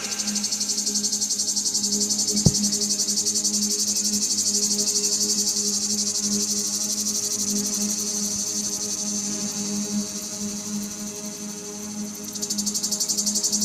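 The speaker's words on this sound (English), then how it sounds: "Consider the song of the cicada, too heavy for the air that carries it." Cicada song: a loud, steady, high-pitched insect drone that carries on for the whole stretch, with a single faint click early on.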